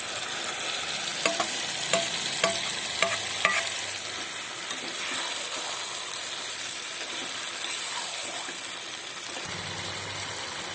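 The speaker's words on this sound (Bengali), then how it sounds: "ভালো করে কষিয়ে নেব কাশ্মীরি লঙ্কা মশলা থেকে তেল ছেড়ে গেছে এবার আমি মাংসটা দিয়ে দেবো" Meat being stirred and fried in an oily Kashmiri chilli masala during an outdoor rooftop picnic cook: steady loud sizzle with rhythmic spoon scrapes against the pot, heard close up, with no talking.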